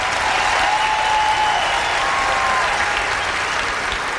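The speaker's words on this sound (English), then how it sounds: "Please, big round of applause." Dense, steady applause from a studio audience at a BET comedy show, loud and continuous throughout with a faint whistle or cheer riding on top.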